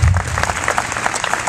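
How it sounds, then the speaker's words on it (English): Audience applause at a college orientation welcome, a dense burst of clapping from a crowd filling the room, loudest at the start and continuing steadily for a moment. "She deserves a round of applause."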